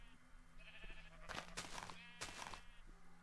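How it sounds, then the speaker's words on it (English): Several short, nasal sheep bleats from a Minecraft-style video game, two or three clear calls in a row over a faint steady background hum. "There's some sheep over here, guys."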